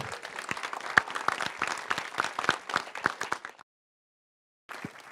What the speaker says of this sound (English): can we get one more round of applause for this group?